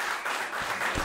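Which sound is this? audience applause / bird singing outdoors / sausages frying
audience applause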